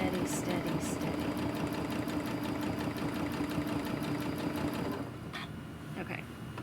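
A sewing machine doing free motion quilting runs with a steady, even mechanical whir and rapid stitching rhythm that stops near the end, with a voice talking over it.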